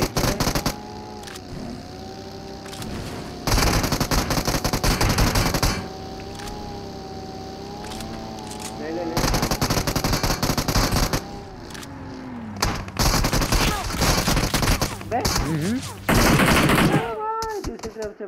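Rapid bursts of automatic gunfire in the mobile battle-royale game BGMI, loud clattering volleys starting and stopping over a droning background, with a voice chatting in between.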